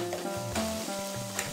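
Food frying in a pan in a kitchen: a close, continuous hiss and sizzle with light stirring scrapes, loud and steady through a short stretch with no talk.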